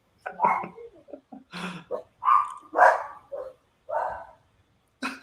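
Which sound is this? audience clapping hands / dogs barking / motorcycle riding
dogs barking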